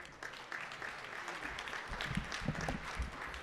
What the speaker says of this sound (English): let's all give her a courteous round of applause